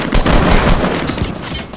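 Rapid bursts of automatic gunfire from the Fortnite video game, dense and loud, crackling continuously for nearly two seconds with no speech over it.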